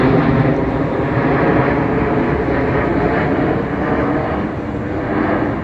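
A Ryanair airliner passing overhead makes a broad, steady roaring rumble that holds loud and continuous throughout, swelling slightly at the start and end, with no talk.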